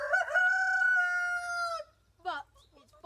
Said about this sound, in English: Then the chickens will react.